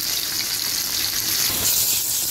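Paneer fries in hot oil in a pan, giving a constant, bright, hissing sizzle that stays even and close throughout, with no voices over it.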